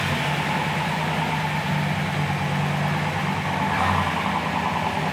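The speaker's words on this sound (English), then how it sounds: "The thing starts and idles like a champ." A 1957 Ford Fairlane 500 Retractable engine idling, a steady low rumble with an even mechanical hum that holds constant throughout, heard alone without voices.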